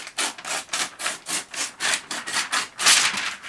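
Paper being ripped again and again in a quick, even rhythm, each tear a bright rasping burst with short gaps between, fairly close and fairly quiet, with no talking.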